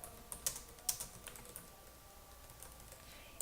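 A computer keyboard being typed on to enter an R command, with a few scattered light key clicks, quiet and close, then trailing off into near silence.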